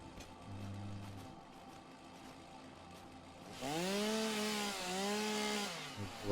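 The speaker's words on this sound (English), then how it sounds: "All I've just done there is chainsaw some leaves." Chainsaw in the video game Solo Factory cutting away leaves: a steady low engine drone first, then a louder revving burst with rising and falling pitch as the blade bites, running close and alone for several seconds.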